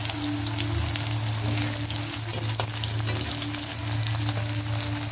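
Sliced onions fry in hot oil until golden brown, with a steady, dense crackling sizzle and occasional pops throughout.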